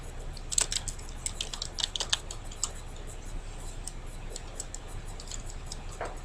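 Quiet rapid clicking of keys on a computer keyboard, with irregular bursts of taps that thin out toward the end, with no voice.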